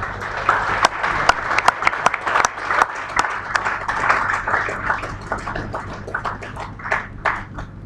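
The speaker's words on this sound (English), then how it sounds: "let's give a good hand of applause to Doctor" Sustained applause from a conference audience after a talk on economic planning, dense clapping rising and falling steadily at close range with no voices over it.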